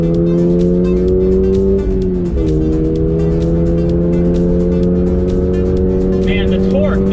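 A 2022 Toyota GR86 pulls hard on a track, its engine note climbing steadily, dipping briefly at a shift around two seconds, then rising again, loud and continuous with wind and road noise throughout.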